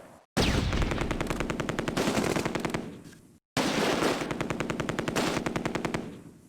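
A .30 cal machine gun in the wargame Close Combat fires two long, sustained bursts of rapid shots, loud and close, with a brief gap between them and a short fade after each.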